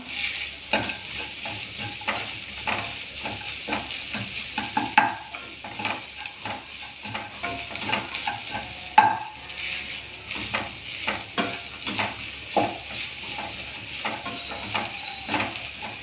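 A spoon works a plantain mixture around a hot pan for elanji filling, making a steady sizzle with repeated scraping strokes in an even rhythm, close and clear with no voices.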